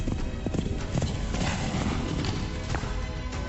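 Horse hooves clip-clop at a steady walking rhythm for a few seconds, set in a dense, busy radio ad mix for Kentucky tourism.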